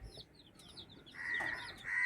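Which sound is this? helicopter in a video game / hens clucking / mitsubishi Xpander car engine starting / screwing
hens clucking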